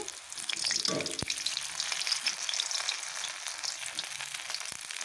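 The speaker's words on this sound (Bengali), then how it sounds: "এই দেখো আমি ফুলকপি বড়া বা পকোড়া যে যেটাই বলো বসিয়ে দিয়েছি" Cauliflower fritters (pakora) fry in a pan with a steady, close hiss and sizzle and a few soft stirring clicks. No one talks.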